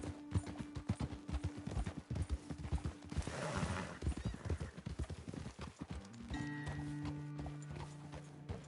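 Horse hooves clip-clop in a steady rhythm in Red Dead Redemption 2, with a horse whinnying partway through and a sustained musical tone underneath.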